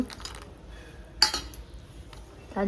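A spoon clinks against a metal pan as ghee-roasted cashews go into gravy, with one sharp metallic knock midway and faint scraping and clatter around it, fairly close.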